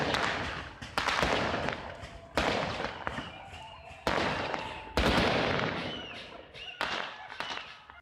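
Gunshots fired at a funeral, recorded as news footage, ring out in a series of about eight sharp, loud outdoor bangs at irregular intervals, each leaving a long decaying echo, with murmuring crowd noise in between.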